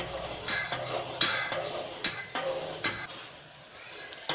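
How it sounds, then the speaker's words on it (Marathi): A spoon scrapes and stirs through a pan in repeated strokes while thick boiling sugar syrup for chana dal ladoos bubbles and hisses softly underneath. "ह्याला चांगली उकळी आलेली आहे पूर्ण आपली साखर विरघळलेली आहे"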